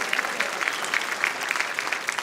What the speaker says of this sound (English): Applause for kids